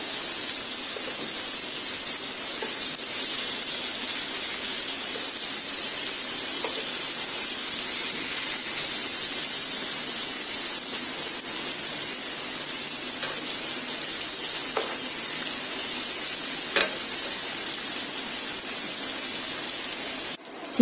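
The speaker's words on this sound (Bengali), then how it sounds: "দুইটা পাশই পোড়া পোড়া করে ভেজে নিতে হবে।" Chicken tikka kabab pieces fry in a pan, giving an even, continuous sizzle with a few sharp pops and crackles, close and fairly quiet, with no one speaking.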